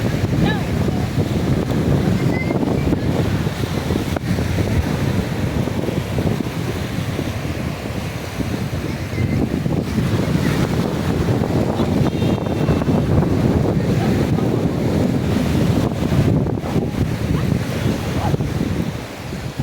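Sea waves wash onto a quiet afternoon beach while wind buffets the microphone, a continuous rolling roar with gusty low rumble and no voices.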